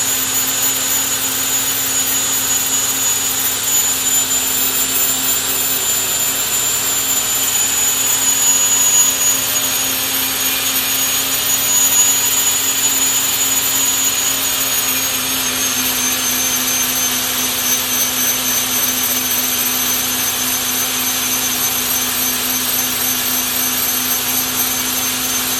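An internal grinder works the inside diameter of hard-turned bushings with a steady, loud, high-pitched whine that holds unbroken for the whole stretch, and no one speaks over it.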